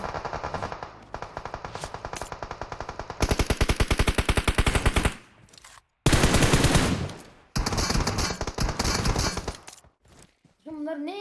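Rapid automatic gunfire from the video game PUBG Mobile, loud, sustained bursts with brief gaps between volleys, dense repeated shots filling most of the stretch, a faint voice near the end.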